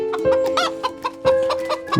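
Chickens clucking in quick bursts against a steady musical backdrop, the calls close and fairly loud.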